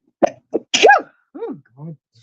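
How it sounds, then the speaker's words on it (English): A single sharp sneeze with a quick breathy build-up, followed by a few short vocal sounds, close and clear in a quiet room. "I'm gonna sneeze."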